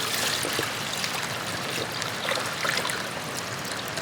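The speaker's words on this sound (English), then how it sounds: "I'm going to dump this water out." Water pours out into a sink in a continuous splashing stream, close and steady for several seconds, with no talking.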